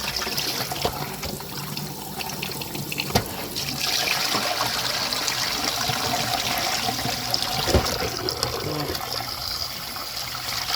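Cold tap water runs into a sink while mung bean sprouts are washed by hand, a steady splashing trickle with occasional clatters, near and continuous.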